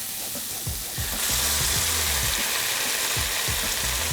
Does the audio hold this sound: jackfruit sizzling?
yes